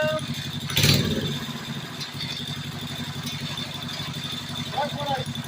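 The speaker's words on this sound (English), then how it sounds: "Yeah, the wheel's going around." An Axis MB200 engine runs steadily with its wheel spinning, a close, even mechanical drone with a rhythmic pulse and a brief louder clatter early on.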